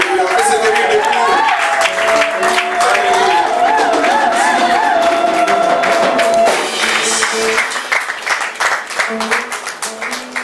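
A church congregation claps and cheers in praise, loud and sustained, with music and voices rising over the continuous clapping before the applause grows more scattered and fades in the last few seconds.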